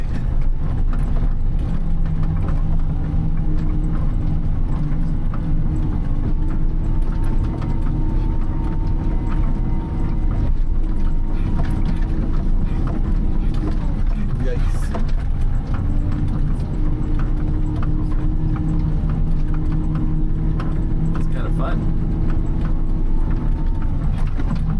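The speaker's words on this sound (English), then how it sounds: "And that snow just pushes the tractor, the loader around, I should say." Tractor loader pushing through heavy snow in a February snowfall, its engine a steady, loud, continuous low rumble throughout, with no voices.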